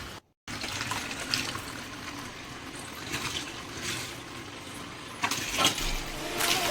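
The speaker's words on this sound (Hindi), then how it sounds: "मैं पानी भर रही हूँ। आई फिलिंग अप वाटर।" Water runs from a tap to fill a container at home, a steady gentle rushing stream that carries on throughout after a brief gap at the start.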